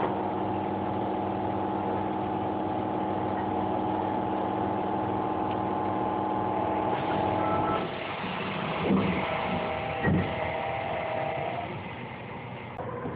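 Osaka subway train on the Nagahori Tsurumi-ryokuchi Line: a steady electronic door-warning tone as the doors close, then a rumbling departure with a few clunks as the train pulls away, heard from inside the car.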